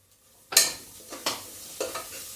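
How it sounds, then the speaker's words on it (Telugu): Turmeric frying in oil for a spinach mutton curry, stirred in a pan: three sharp scraping strokes, each lifting a burst of close sizzle that fades between them. "పసుపు మంచిగా ఆయిల్లో ఫ్రై కావాలి"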